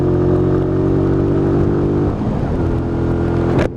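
A Lexmoto ZSX-F 125 motorcycle on the road, engine droning loud and close as it climbs, the pitch dropping at a gear change, then a sharp rise near the end.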